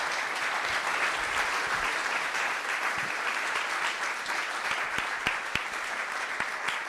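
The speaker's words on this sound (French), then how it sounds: "si vous voulez bien remercier par vos applaudissements Julien Dossier" Steady, full applause from a conference audience thanking a speaker, a continuous wash of many clapping hands with a few sharper individual claps standing out.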